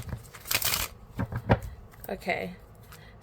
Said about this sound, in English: let me shuffle this deck one more time